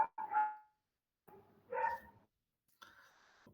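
Small dogs barking during an online class, three short separate yips and barks spaced out over quiet, somewhat distant and muffled as if through a call microphone.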